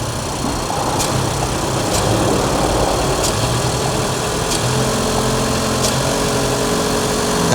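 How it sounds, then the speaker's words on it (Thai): A car engine idles and is held at raised revs during a head gasket CO2 combustion-leak test in a repair shop, a steady close droning hum with faint periodic clicks and no speech. "ตอนนี้ผมจะเร่งเครื่องนะ"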